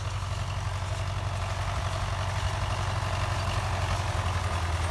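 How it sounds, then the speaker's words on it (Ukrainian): An MTZ-80 tractor engine idles in a steady, low rumbling chug that holds constant throughout, close by and unbroken, during soybean sowing with a seed drill. "Трактор МТЗ 80"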